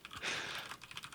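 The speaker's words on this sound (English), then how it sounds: "Kubi, since Jake's typing away" Steady typing on a computer keyboard, quick soft keystrokes in an irregular run, heard fairly close and alone.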